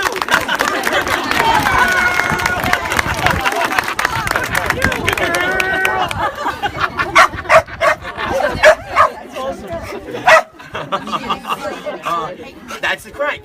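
Dogs bark and yip loudly and repeatedly, with whimpering in between. A busy crowd murmurs behind them and people speak over the commotion.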